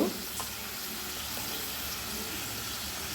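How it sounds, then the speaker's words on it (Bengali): Ground spice paste frying in oil for an egg omelette curry gives a steady, even hiss that stays at one level throughout, with a soft knock at the very start and no voices. "বাটা মশলাটা দিয়ে আমি খানিকক্ষণ কষে নেব"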